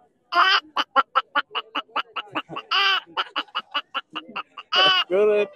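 A voice imitating a hen's clucking after laying: rapid staccato clucks broken by a few drawn-out squawks, close and loud, with no other sound.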